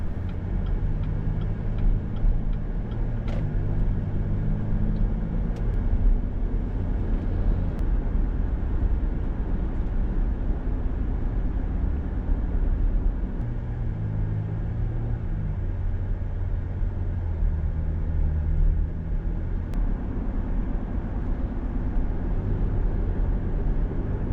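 A car drives back into Branson, Missouri, heard from inside as a steady low road rumble and engine drone that holds evenly for the whole stretch, with no one talking.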